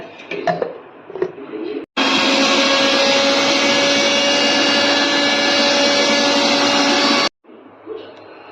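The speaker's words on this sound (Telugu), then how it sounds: "ఇలా కొబ్బరి చిన్న చిన్న ముక్కలు కట్ చేసుకొని ఇలా మిక్సీలో వేసుకొని" A mixer grinder whirs loudly and steadily for about five seconds as it grinds small coconut pieces for coconut milk, starting and stopping abruptly, with quieter kitchen sounds before and after.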